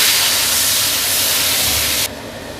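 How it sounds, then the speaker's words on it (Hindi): Onions fry in a pan with a loud, continuous close sizzling hiss that drops abruptly to a softer level near the end, with no talk. "1 मिनट प्याज को भी फ्राई करने के बाद"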